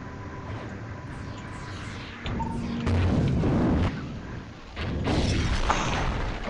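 Explosions in the space combat game Space Pirates and Zombies, several loud booming bursts and blasts over about six seconds, close and building in intensity, with no talking over them.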